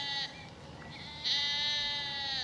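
Sheep bleat in a field near Teynham and Faversham in Kent, with two or three drawn-out, wavering cries close by, rising and falling over quiet outdoor background.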